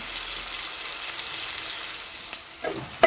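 Chicken frying with onions and chillies in a pan, a quiet steady sizzle with a few soft stirring knocks toward the end, no voices.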